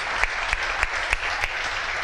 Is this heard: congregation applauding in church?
yes